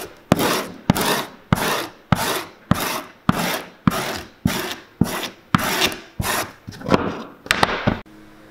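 A Red Wing boot sole is roughed up for gluing with about a dozen loud, evenly spaced rasping strokes, each a short abrasive scrape close by, with no talk.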